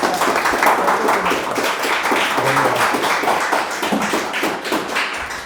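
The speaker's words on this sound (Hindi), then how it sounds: "जोरदार ताली बजाइए" Audience applause at a college gathering in Raipur: steady, dense clapping from a crowd, loud and continuous throughout with no voices over it.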